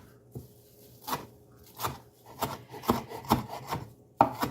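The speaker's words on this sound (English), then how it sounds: "when you're chopping a large mound of herbs like this, you need to get it broken down" Knife chopping a large mound of fresh herbs on a cutting board: irregular, quickening taps and scraping strokes, close and fairly loud, with no talking.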